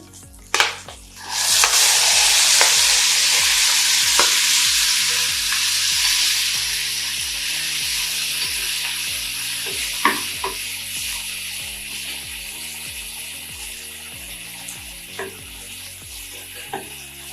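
Tomatoes sizzle and fry steadily in a pan with cumin for a drumstick leaf chutney, a bright continuous hiss joined by frequent light clinks and scrapes of a stirring spoon, with no voices.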